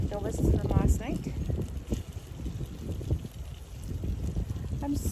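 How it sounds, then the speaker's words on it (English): Gusty wind buffets the microphone at a campsite beside a pickup truck, a steady low rumble with rising and falling gusts while a person talks over it throughout. "It's a bit windy, but I'm in a nice sheltered spot"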